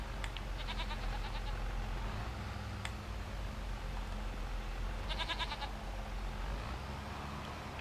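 Goats in the video game Farming Simulator 25 give a couple of wavering, nasal bleats at moderate distance over a constant low background hum, with no talking.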